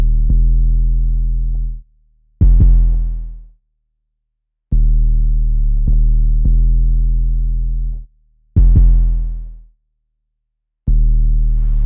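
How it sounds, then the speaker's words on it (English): Loud 808 bass notes with aggressive fuzz distortion play in a repeating beat pattern, each note sustained and buzzing with rich overtones, with sharp percussive hits on top and short silent gaps between phrases. "I loaded up two different 808s. One is clean and smooth, and the other one has a much more aggressive fuzz distortion."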